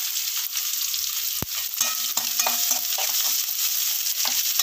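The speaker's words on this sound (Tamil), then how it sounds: "இந்த மாதிரி மிளகு, சீரகம், பூண்டு இது மூணையுமே நல்லா தட்டி இந்த எண்ணெயில் வதக்கிடணும்." Crushed black pepper, cumin and garlic sautéing in hot oil for a snake gourd masala stir-fry, a steady bright sizzle with a few light clinks of a spoon stirring the pan.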